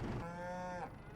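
Cows lowing in the Farming Simulator 25 game, one long, steady, clear moo that lasts close to a second, heard alone over a faint background hum.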